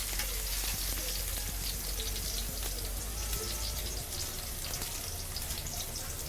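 Onions and garlic frying in a pan, a quiet, steady crackling sizzle like light rain, constant throughout with small pops, no talk.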